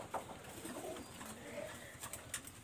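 Two red-eyed female pigeons coo softly nearby, low murmuring calls rising and falling amid faint background rustle, no talking.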